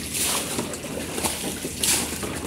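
Floodwater is bailed out of a flooded room during heavy rain and a storm in Manila, with continuous sloshing and splashing water close by and brief louder scoops.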